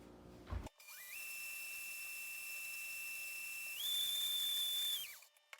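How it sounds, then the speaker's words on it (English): A blender whirs on high speed, blending vegan butter, with a steady high-pitched whine, stepping up in pitch partway through before spinning down and stopping. "I blended it for about 30 seconds on high"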